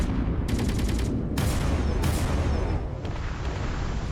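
Spaceship cannons in a space battle video game fire in a rapid fusillade, with loud, dense bursts of repeated shots layered over a constant roar of battle.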